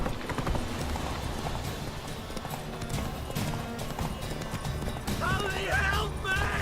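Hooves of the horse Roach clip-clop at a steady galloping rhythm through The Witcher 3 game world, close and continuous for several seconds beneath music and other game sounds, with a horse whinny and a voice near the end.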